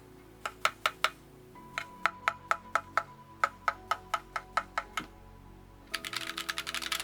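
Keystrokes tap out on a Keychron Q1 keyboard fitted with Akko V3 Cream Blue switches: a steady series of crisp, evenly spaced clacks close up, ending in a quick flurry of faster typing.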